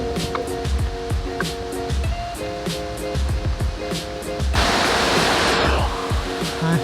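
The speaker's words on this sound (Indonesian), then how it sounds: "Di balik sana itu udah air terjun." The Kakek Bodo waterfall in Pasuruan, East Java, roars as a loud, continuous rush of water. It swells noticeably partway through as if heard from closer, with rhythmic knocking noises in the background.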